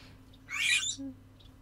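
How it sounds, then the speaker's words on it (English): Outdoor birds give a short bright squawking call close by, followed by a softer chirp and a faint distant call over quiet background hum. "sometimes you hear like four different types of birds"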